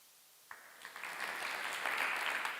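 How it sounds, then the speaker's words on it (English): An audience at a children's film festival award ceremony breaks into applause for the winning film Lola, starting with a few claps and quickly building into sustained, moderately distant clapping. "An applause to Lola and congratulations to this winner"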